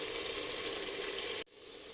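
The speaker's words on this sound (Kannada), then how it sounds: "ಇವಾಗ ಟೊಮೊಟೊ ಹಾಕ್ಕೊಂಡು ಇದೊಂದು 2-3 ನಿಮಿಷ ಹುರ್ಕೊಳ್ಳೋಣ" Tomato and spice powders fry in a pan for green pea methi pulao, a close, steady sizzle that drops out abruptly for an instant before resuming slightly quieter.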